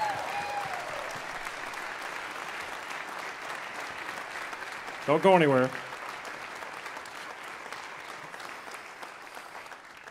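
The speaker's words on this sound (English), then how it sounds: "Give him a round of applause here." An audience at a live U.S. Army Concert Band tuba-euphonium workshop applauds steadily in a large hall, with someone speaking over the clapping and a brief louder burst of voice partway through.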